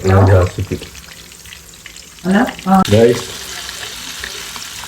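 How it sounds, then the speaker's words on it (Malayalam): Fish fry cooking in a pan, a soft continuous sizzle beneath voices that speak in short bursts on and off. "fish fry മറിച്ചിട്ടിരിക്കുകയാണ്"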